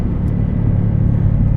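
A modified 2005 Subaru Legacy GT wagon with external wastegates gives a steady, deep exhaust rumble, loud and close, with a heavy low drone and no voices.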